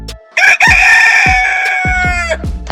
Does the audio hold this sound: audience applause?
no